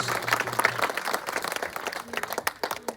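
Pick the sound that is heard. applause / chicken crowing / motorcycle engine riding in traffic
applause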